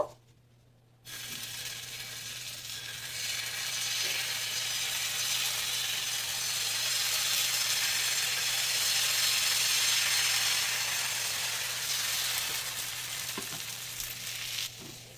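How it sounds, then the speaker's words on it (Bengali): Pitha batter poured from a bottle into a hot, lightly oiled pan sizzles loudly, the frying hiss rising suddenly after a second of quiet and holding steady, with faint clicks, then easing slightly near the end. "এরপর যে ব্যাটারটা আমি বোতলে ভরে রেখেছিলাম সেটা খুব সুন্দর করে এই প্যানের মধ্যে দিয়ে দেব"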